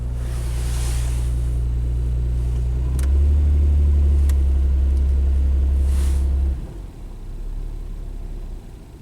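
A 1997 Nissan Maxima idles in drive with a slightly shaky, deep rumble, then swells louder for a few seconds as gas is applied before dropping back to a steadier low hum.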